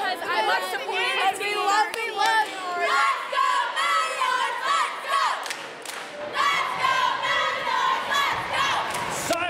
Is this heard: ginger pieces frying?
no